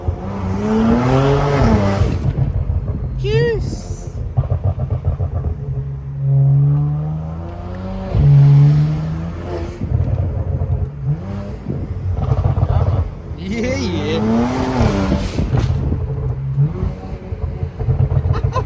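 A BMW 335i twin-turbo engine revs and roars repeatedly at night while people chat and react over it, the engine noise rising and falling throughout.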